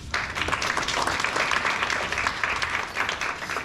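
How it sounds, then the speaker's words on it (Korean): An audience at a National Assembly policy forum on Nowon redevelopment claps to welcome the moderator, a steady roomful of hands at moderate level, starting abruptly and continuing evenly. "박수 부탁드리겠습니다"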